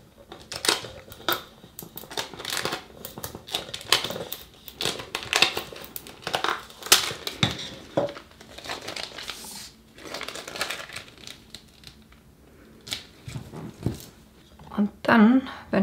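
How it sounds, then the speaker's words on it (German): Crinkling and crackling of transfer film being peeled off a vinyl design on a conical cup, in a steady run of close, irregular rustles under a voice talking. "Dann können wir die Übertragungsfolie abziehen."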